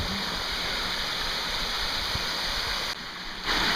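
Steady, dense roar of rushing water at Sandiaoling Waterfalls, heard close from the top edge of the falls, continuous, with a brief dip in intensity near the end.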